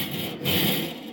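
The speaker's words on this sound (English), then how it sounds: "you can actually go across the grate" A curled grill brush scrubs across a barbecue grill grate in one short, close, rough scraping stroke that swells in the middle and fades, with no talking.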